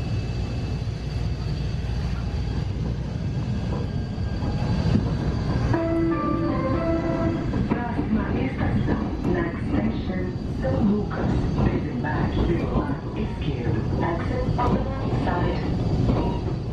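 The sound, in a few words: Bombardier Innovia 300 monorail riding, São Paulo Line 15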